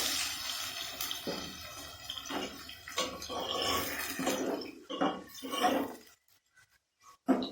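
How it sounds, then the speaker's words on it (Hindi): Water poured into a hot pan of frying onions, with a burst of sizzling and bubbling that fades into quiet near the end. "थोड़ा सा पानी डालना है ताकि प्याज न जल जाए।"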